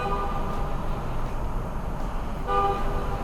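A Chevy SUV's car horn honks in city traffic at an intersection, two bursts of steady tone, the second near 2.5 s, over continuous traffic and engine noise.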